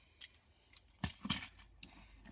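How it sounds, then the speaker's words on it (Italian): Car keys jangle in a few short bursts, close and fairly quiet, with brief pauses between shakes. "Poi chiavi della macchina."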